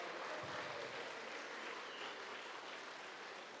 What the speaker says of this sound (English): So let's practice the applause part. It's big. Applause is big.